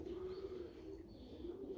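Pigeons coo steadily inside a pigeon loft, a continuous low, soft cooing that runs throughout without breaks, close and fairly quiet, with no talking.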